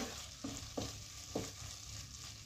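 Carrot halwa being stirred with ghee in a pan: a spoon scrapes the pan in about three quiet strokes over a faint, steady sizzle.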